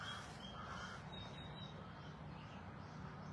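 Crows cawing outdoors near a tree, a few short harsh calls early on, moderately distant over steady low background noise.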